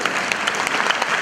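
An audience claps in a short, steady burst of dense applause, fairly close and loud, with no voices over it.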